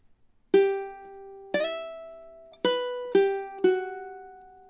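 Ukulele picks measure 16 of a melody, five clean plucked notes ringing out one after another at a moderate pace, close and bright, following a few faint counting clicks.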